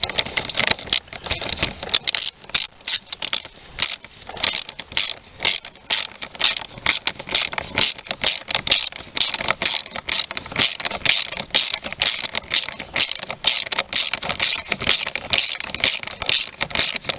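Ratchet nipping up a bolt on a Peugeot 308, a long, loud, close run of rapid, even clicks that carries on steadily with no talk.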